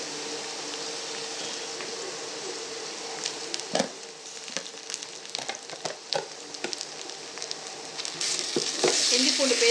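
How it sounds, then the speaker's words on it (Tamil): Ginger garlic paste sizzles steadily in a pan of oil for Chettinad pepper chicken, with scattered scraping stirs that grow busier and louder toward the end. "இஞ்சி பூண்டு பேஸ்ட் போட்டு நல்லா வதக்கணும்"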